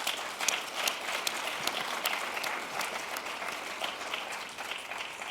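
Sustained applause from a large convocation audience, dense and steady clapping filling the hall at moderate loudness with no pauses.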